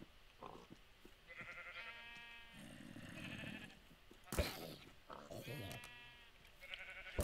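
Minecraft sheep bleat repeatedly in wavering calls during a survival game, mixed with a sharp hit sound and a person talking over the bleats.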